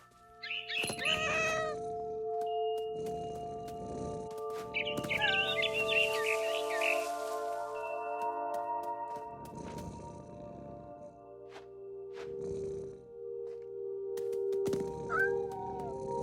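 A cat meows repeatedly in the game What Remains of Edith Finch, a series of drawn-out, wailing calls spaced a second or two apart, fairly close and clear over quiet ambience, with a brief bird-like chirp among them.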